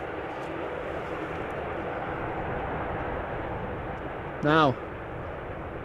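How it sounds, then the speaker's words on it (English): A KLM Boeing 787-10 Dreamliner arrives at Amsterdam Schiphol from Atlanta, a steady broad jet roar holding level throughout, with a voice briefly speaking over it near the end. "KLM Flight 622, 787-10 Dreamliner arriving from Atlanta"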